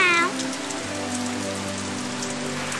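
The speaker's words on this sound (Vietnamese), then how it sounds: "Ồ, ngoài kia trời mưa lạnh" Steady rain patters outside in a cartoon, a continuous close hiss of drops with a short tonal sound at the start and no speech.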